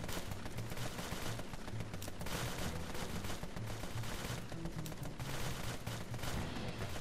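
Automatic overwatch fire in the gangster game Empire of Sin, a dense continuous rattle of rapid gunshots lasting several seconds, loud and close with no talking.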